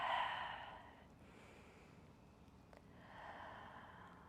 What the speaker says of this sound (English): finding a few long, intentional breaths on this side